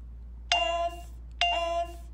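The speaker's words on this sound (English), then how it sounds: "Then we're gonna jump to the G bell." A G tone bell in a music app is struck twice, about a second apart, and each clear metallic tone rings briefly before it cuts off.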